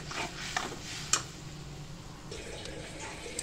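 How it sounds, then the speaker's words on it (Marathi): Jaggery melting and being stirred in a pan for sweet tamarind chutney, a soft steady sizzle with faint scraping and a few light clicks of a utensil against the pan. "थोडासा आता हा गूळ पागळून घेते मी।"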